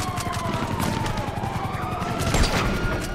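Rapid gunfire aimed at a helicopter's rotor in GTA Online, dense, continuous shots over the helicopter's steady drone and whine, loud and close.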